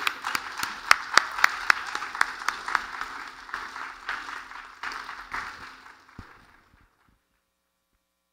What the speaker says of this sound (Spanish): recibámoslo con un muy fuerte aplauso